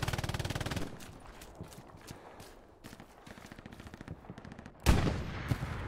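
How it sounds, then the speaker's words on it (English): Machine gun fire in the World War II shooter Hell Let Loose, a steady rattling burst up close at first, then scattered distant shots and a sharp loud volley near the end. "Oh, it's a machine gunner."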